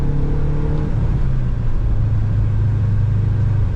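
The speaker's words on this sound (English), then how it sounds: "I like the exhaust note too." A Subaru WRX fitted with a Fujitsu axle-back exhaust rumbles close by, a loud, deep, steady engine drone with a slight rise in pitch partway through and no talk over it.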